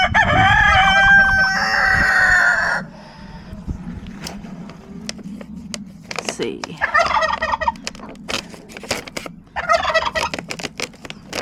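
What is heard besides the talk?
farm birds calling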